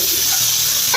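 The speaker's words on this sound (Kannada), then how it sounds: "ಇದಕ್ಕೆ ಚೆನ್ನಾಗಿ ಸರಿಯಾಗಿ ಮಿಕ್ಸ್ ಬಿಡೋಣ" Half-ripe chillies sizzle in hot oil while being stirred, a steady bright frying hiss filling one short continuous stretch, close and fairly loud with no talk.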